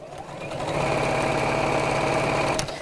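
A sewing machine stitches around the sides of a project in a steady, rapid mechanical whirr for a couple of seconds, close and alone, with no talking.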